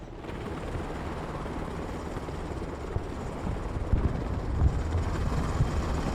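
A helicopter in a video game, its steady rotor thrum and engine drone filling the scene continuously, close and fairly loud with no voices.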